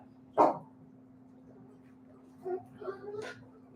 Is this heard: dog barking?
yes